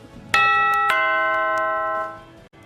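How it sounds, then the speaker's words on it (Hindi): A stock exchange closing bell rings twice in quick succession at the 3:30 market close in India, its bright, clear metallic tone sustaining and slowly fading for about two seconds. "लगातार दूसरे दिन घंटी की मधुर आवाज 3:30 बजे भी आती हुई दिख रही है"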